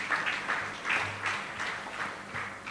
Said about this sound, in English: Clap your two hands for Jesus.